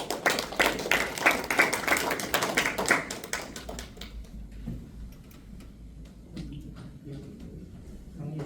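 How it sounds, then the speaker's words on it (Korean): Audience applause at a forum lecture welcoming a speaker: a dense burst of many hands clapping that thins out after about four seconds into a few scattered claps and soft shuffling. "큰 박수로 맞이해 주시기 바랍니다"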